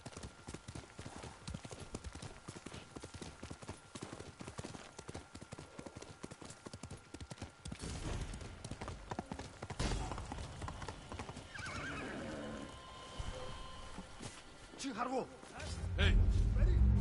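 Hooves clip-clop in a quick, steady rhythm in the video game Ghost of Tsushima, then give way to splashing as the horse enters deep water and whinnies near the end, with speech over parts.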